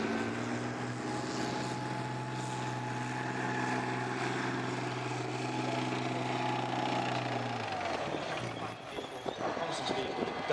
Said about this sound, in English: Mounted in their warrior infantry fighting vehicles, the armoured infantry, guided onto the position by an intimate support tank, clears the objective